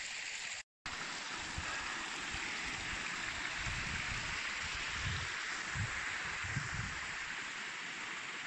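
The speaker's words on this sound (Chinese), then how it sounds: "这是个瀑布" Waterfall along the Mt Cloudsley Track in cold mountain conditions, a steady broadband roar of rushing water that stays loud and continuous throughout, with a brief break near the start and low gurgling surges underneath.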